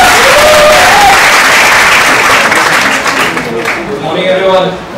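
An audience at a university session breaks into loud, sustained applause, dense clapping filling the hall and gradually thinning toward the end as a voice begins speaking over it.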